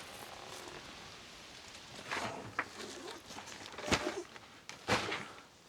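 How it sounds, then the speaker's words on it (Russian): Steady rain patters over a soft hiss, with a few louder drops and taps striking nearby surfaces. "Что, и тебе не хочется под дождем?"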